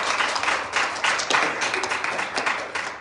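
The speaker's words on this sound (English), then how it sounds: "let's give the Lord a hand clap." A church congregation claps hands together for about three seconds, a dense, lively patter of many claps with slightly uneven bursts.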